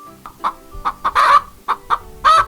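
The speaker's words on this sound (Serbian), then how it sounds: "A kako se kokoška čuje?" A hen clucks in short, repeated bursts close by, with a few louder, drawn-out squawks mixed among the quick clucks.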